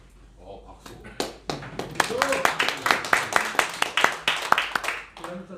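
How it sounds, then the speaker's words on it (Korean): An audience claps in a fairly slow, uneven rhythm that swells and fades over several seconds during a talk, with brief voices at the start and end. "박수."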